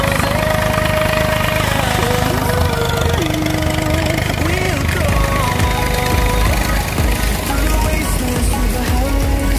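An ISO 300 tractor engine runs steadily up close while working a machine during the groundnut harvest on a farm, a continuous knocking drone with shifting whine over it the whole time.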